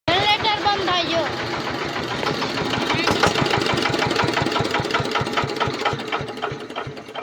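A diesel generator runs steadily and loudly throughout with a constant mechanical engine drone; voices can be heard over it at the start.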